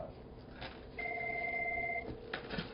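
An indoor telephone rings once with a steady electronic trill lasting about a second, fairly quiet against a faint room background, with brief soft knocks before and after.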